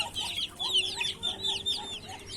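Young chicken chicks chirp and peep in rapid, overlapping high calls, close and continuous, with a faint steady hum underneath and no talking.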